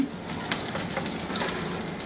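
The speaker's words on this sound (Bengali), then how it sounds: "আমি একটা এখন একটা কড়াইয়ে কিছু তেল গরম করে আমি রসুন আর লাল মরিচগুলা দিয়ে একটু ভেজে নিব" Garlic and red chillies frying in hot oil in a wok, a soft, steady sizzle with a few faint clicks and pops, fairly quiet and alone.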